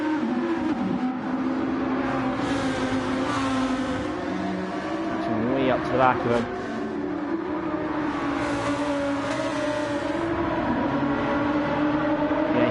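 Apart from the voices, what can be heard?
GT1 race cars driving at Trial Mountain, from a video game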